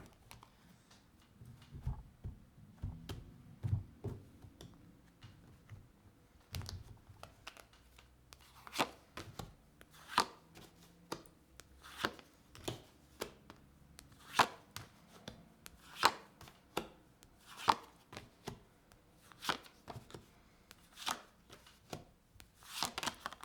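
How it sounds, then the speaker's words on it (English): Tarot cards are shuffled by hand, giving a run of sharp, close riffling snaps and slaps, irregular at first and then a steady series of crisp hits, with no voices. "One more shuffle."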